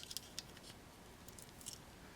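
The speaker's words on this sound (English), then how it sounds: "We have scissors." Scissors on a pocket knife being opened, giving a few small, quiet metallic clicks and snips spread over about two seconds, close by and without talk.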